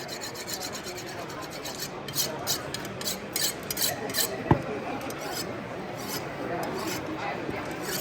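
A butcher's knife is drawn through a Sharpens Best knife sharpener at a fast pace, giving a steady gritty rasping scrape with rhythmic strokes and one sharp click midway, close and moderately loud.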